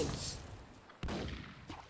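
Ship cannons fire in the Roblox pirate game Galleons, with a muffled boom near the middle, a fainter burst at the end and a faint high crackle early on, all quiet.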